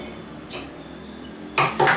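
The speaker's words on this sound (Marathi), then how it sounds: "हे कापड आपण थोडंसं कापून घेणार आहोत" Scissors cut through fabric while a blouse is being sewn, giving a few short crisp snips near the start and middle, then a louder burst of cutting toward the end, with no talk.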